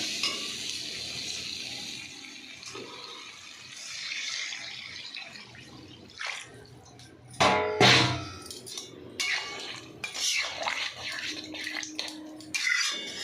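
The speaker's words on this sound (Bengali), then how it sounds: "এবার আমি জল ঢেলে দেবো।" Water poured into a cooking pan of spiced potatoes and soya chunks in a Bengali home kitchen, heard as an uneven splashing gush with frying sizzle, the loudest burst midway, followed by intermittent stirring and bubbling.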